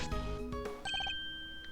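A telephone rings in the video game Miles Edgeworth Investigations 2, a short run of rapid electronic trill pulses lasting about a second amid game music, with no talk.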